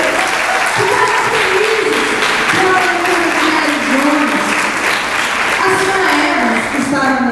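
A church congregation applauds, with sustained, dense clapping throughout while a voice speaks over it.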